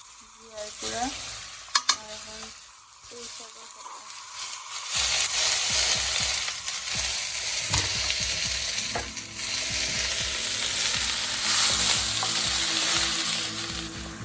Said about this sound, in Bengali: ইলিশ মাছ এখানে ফ্রাই করা হয়